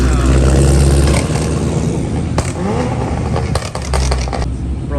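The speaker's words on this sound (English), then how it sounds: "Bro, this Hellcat is so freaking loud." Dodge Hellcat V8 roaring loudly at close range, a dense steady engine drone with rising and falling revs and brief crackles, while a voice talks faintly underneath.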